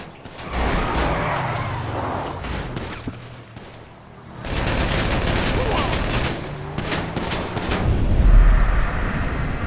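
Gunfire from a gun in Grand Theft Auto V, bursts of shots and clattering mechanical noise coming in two loud stretches around a quieter gap, with a voice talking over it.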